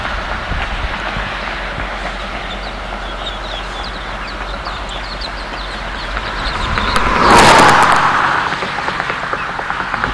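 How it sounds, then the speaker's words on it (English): Cars driving past on a concrete highway with faulted slabs, a steady road hum swelling into a loud close pass-by whoosh near the end, then fading. "Probably hear that cars that went by quite clearly"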